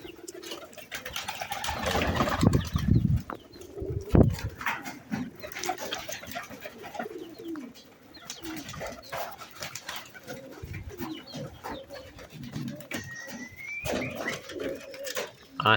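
Domestic pigeons coo in low, intermittent bursts alongside other bird sounds and scattered handling noises, with a person talking in between.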